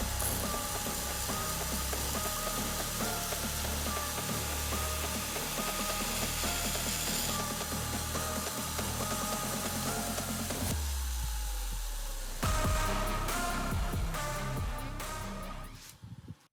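A belt grinder cuts the main bevels on a mosaic-pattern damascus steel knife blade with a steady, continuous abrasive whir. It shifts and breaks up near the end as the grinding stops.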